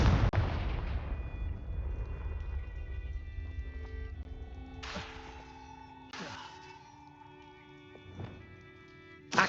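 The Confringo blasting spell in Hogwarts Legacy fires as several sharp cracking bursts spaced a second or two apart, each with a short ringing tail, following a loud opening blast over a low ambient game background.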